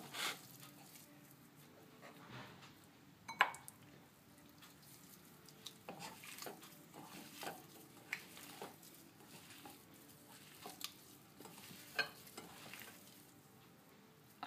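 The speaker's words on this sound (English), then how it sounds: "I'm going to mash all the four potatoes." Boiled potatoes being mashed by hand for an aloo paratha filling, giving soft, irregular squelches and occasional sharper knocks against the bowl, fairly quiet and spread across the whole stretch with no talk.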